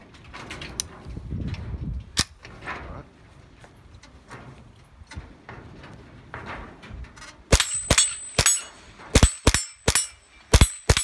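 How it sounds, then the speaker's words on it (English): A Marlin Model 795 .22 rifle fires a quick series of sharp, loud cracks at an outdoor range, most of them followed by the bright ringing clang of a steel gong being struck, after a quieter stretch of handling noise. "And I'll just go ahead and shoot it first here."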